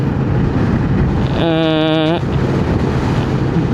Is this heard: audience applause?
no